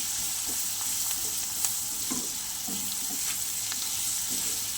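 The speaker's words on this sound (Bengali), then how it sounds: "আমি সুন্দর করে ভেজে নেব।" Onion with cumin powder, chili powder, turmeric and salt fries in a pan for a spicy bhola fish curry, giving a steady close sizzle broken by soft scattered clicks and scrapes of stirring.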